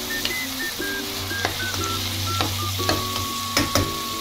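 Beef and pork pieces fry in a hot pan, a steady close sizzle with stirring scrapes and clinks, while a faint electronic tone beeps in the background; no talking.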